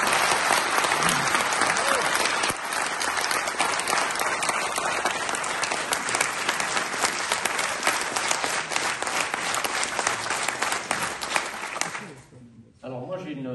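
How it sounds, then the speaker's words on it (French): Sustained applause from an audience at a French political rally, a dense wash of clapping that runs loud and steady for about twelve seconds before tapering off abruptly near the end. "Je vous demande donc tous d'applaudir."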